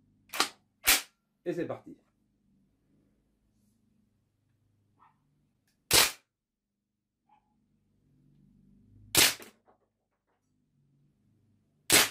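Legends MP German 4.5 mm BB airsoft gun with blowback fired in semi-auto: sharp single pops spaced out over several seconds, some in quick pairs, close and loud, with brief speech before the shots.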